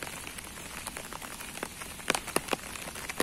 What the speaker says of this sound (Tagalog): Ang sobrang lakas talaga ng ulan.